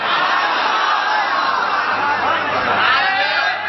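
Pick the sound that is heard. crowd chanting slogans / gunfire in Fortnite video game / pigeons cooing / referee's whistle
crowd chanting slogans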